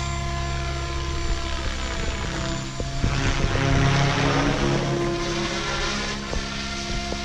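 An RC helicopter, a SAB Goblin, flies alongside a Yuneec Q500 drone, their rotors and motors making a steady loud high-pitched whine and buzz that hovers without a break, with slight swells as they move.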